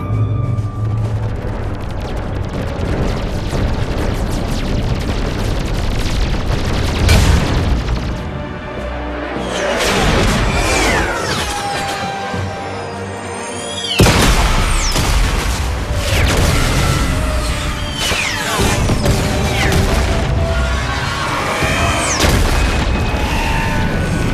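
Loud battle in the video game Mass Effect 3 on a London battlefield: continuous weapons fire, heavy booming explosions and crashing impacts layered with whooshes and a dense combat soundscape.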